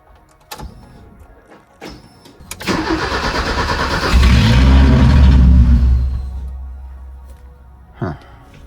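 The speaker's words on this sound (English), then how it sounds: "So it's okay, so it's starting and then just shutting off right away" A BMW E30 cranks with a few sharp clicks, then catches and roars loudly for a couple of seconds before dying away, freshly reassembled with its battery reconnected; a brief thump follows, close up.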